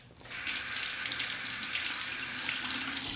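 Tap water gushes steadily into a sink for rinsing during a wet shave, starting abruptly and running loud and close without pause.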